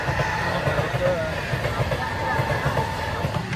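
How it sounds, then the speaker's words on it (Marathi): A local train passes with a continuous low rumble and rattle heard throughout, while people talk over it. "ट्रेन चालली"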